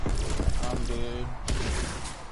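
Rapid bursts of automatic gunfire in Call of Duty Black Ops Cold War Zombies, loud and close, come in quick volleys with a short pause between them.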